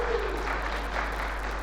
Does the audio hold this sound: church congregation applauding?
yes